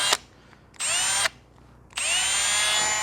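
A cordless drill with a kickback feature revs in short bursts: a quick blip, then a half-second whine, a pause, and a longer sustained run, close and loud.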